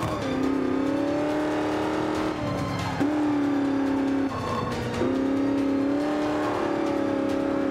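A car in the Forza Motorsport 5 video game revs loudly while drifting, its engine holding a sustained high drone that dips and climbs several times with brief throttle breaks, close and continuous, no talk.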